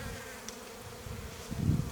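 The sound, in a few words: honey bees buzzing at an open beehive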